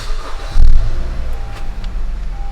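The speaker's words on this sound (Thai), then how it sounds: "เดี๋ยวเอกสตาร์ทรถนะคะ" A 2013 Honda Accord 2.0 EL engine cranks and catches with a brief loud burst, then settles into a low steady idle rumble.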